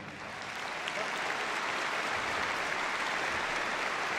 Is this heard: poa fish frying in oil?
no